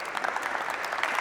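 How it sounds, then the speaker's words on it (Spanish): Audience applause at a basketball coaching clinic, a brief, fairly soft patter of many hands clapping together with no talk over it. "Pues un fuerte aplauso a Jota"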